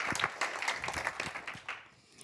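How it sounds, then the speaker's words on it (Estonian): Audience applause at a youth career conference, scattered hand claps rising and fading over a couple of seconds, fairly near and moderately loud, with no voices over it. "Teeme vahetuse, aplaus."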